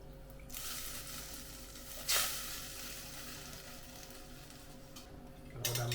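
Thin coconut milk simmering in a pot: a soft, steady bubbling hiss with faint crackle, close and quiet, broken by a brief louder scrape and a clunk near the end.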